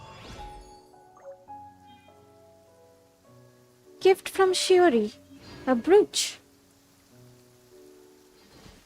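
Soft, steady rain falls at night in Fontaine in the video game Genshin Impact, a faint background patter that continues beneath a brief stretch of spoken dialogue.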